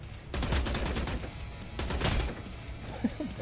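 Rapid bursts of gunfire from the online battle game Bloodhunt crackle through most of the stretch, dense and loud, with a couple of sharper impacts near the end.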